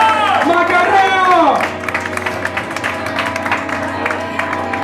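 Crowd at the Republik club bursts into applause and cheering, a dense patter of clapping with shouts that follows a loud voice and then settles into steady, slightly distant clapping over a sustained musical tone.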